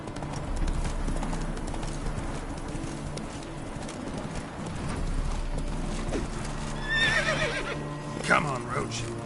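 Roach the horse gallops with rhythmic clip-clop hoofbeats in The Witcher video game, ending with a sharp whinnying neigh, while a voice speaks over the hooves.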